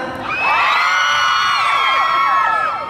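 A crowd at a summer concert festival at Siam Paragon erupts in loud, sustained high-pitched screaming and cheering that swells quickly and holds for a few seconds.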